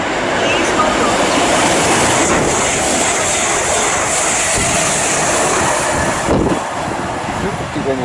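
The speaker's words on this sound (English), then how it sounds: "The next train at platform 7 does not stop here." A non-stopping train runs through Watford Junction station on the West Coast Main Line, a loud steady roar of wheels and rushing air that fills the whole stretch, with a sharp thump near the end.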